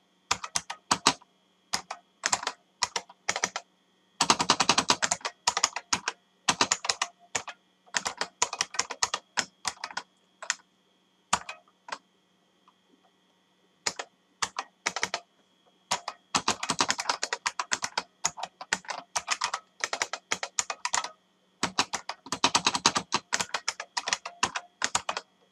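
Clicks from a computer keyboard during coding, in irregular bursts of quick keystrokes broken by short pauses, close and fairly quiet, with no voices.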